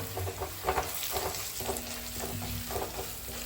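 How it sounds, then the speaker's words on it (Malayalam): Turmeric powder frying in a pan for a pothichoru meal, a soft steady sizzle broken by light, repeated stirring scrapes, no voices. "കുറച്ച് മഞ്ഞൾപ്പൊടി കൂടി ഇടാം നന്നായിട്ട് ഫ്രൈ ആക്കാം"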